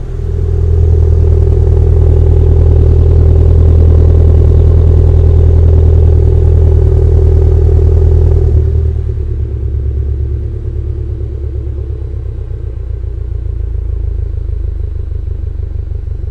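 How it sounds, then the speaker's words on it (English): A 2022 Subaru BRZ with an upgraded catback exhaust and intake cold-starts with a loud, high, steady exhaust roar that drops after several seconds to a lower, lumpier rumbling idle. "So that's a cold start. That's turned into normal idle."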